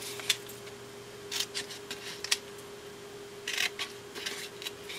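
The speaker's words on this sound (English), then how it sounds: "So I'm going to cut up to the score line on all of these score lines." Scissors snip through a cardboard box along its score lines in several short, crisp cuts spaced irregularly, close but quiet over a faint steady hum.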